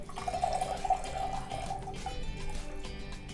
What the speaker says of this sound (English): Now Anya's going to add 1/4 cup of witch hazel